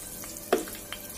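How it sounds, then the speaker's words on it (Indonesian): Indomie noodles and potato snack fry in hot oil over medium heat, giving a short sharp sizzling burst followed by a softer crackle in a quiet kitchen. "Kemudian kita goreng"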